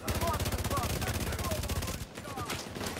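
Rapid automatic gunfire rattles in a steady stream in the Dark Zone of a shooter video game, then breaks off briefly before a few more bursts, with faint in-game chatter underneath.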